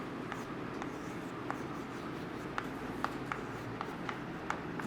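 Writing on a board in a classroom during a chemistry lesson: soft, rapid scratchy strokes with light taps at irregular intervals, steady and near over quiet room noise.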